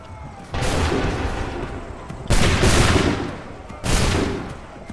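Musket volleys in the video game Assassin's Creed III crack out as three loud, rolling bursts of gunfire, each fading into a long rumbling tail.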